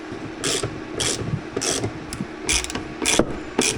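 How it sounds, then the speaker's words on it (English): Screws are backed out of the lock plate on a Segway scooter, a series of close, short ratcheting clicks in about seven quick bursts over low background noise. "we are going to remove these 2 screws here and that screw there"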